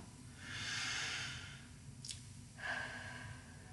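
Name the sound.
deep breath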